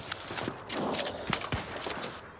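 Cannon and musket fire during an invasion battle in the game New World, a rapid cluster of sharp booming blasts and cracks in irregular succession, loud and close, with some battle clatter between shots.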